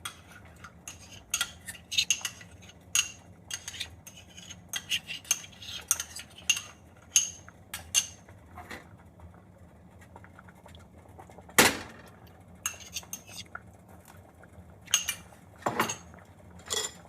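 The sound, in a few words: stirring pumpkin erissery with coconut paste in a pot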